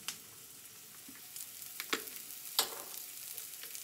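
Carrots sauté faintly in a pan with a soft, steady sizzle and a few light crackles and pops. It sounds quiet and somewhat distant, with no talking.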